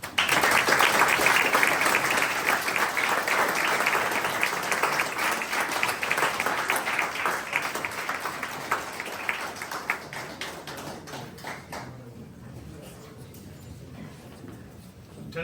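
An audience at a Civil Air Patrol cadet squadron charter ceremony applauds, giving a dense round of clapping that tapers over about twelve seconds into a few scattered claps and quiet room noise.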